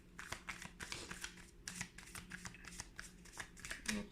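Tarot-style cards are shuffled close up for a card reading, a quick continuous riffling and slapping of card stock with rhythmic bursts throughout and no talking.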